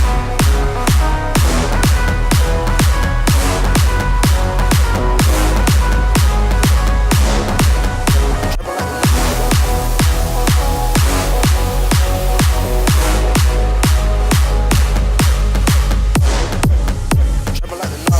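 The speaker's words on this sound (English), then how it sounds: "lead gets low passed through the Camel Crusher filter" A loud EDM lead and full beat run steadily as the lead is low-pass filtered through Camel Crusher with an Endless Smile effect sweep, producing a thick pulsing mix with heavy rhythmic bass hits.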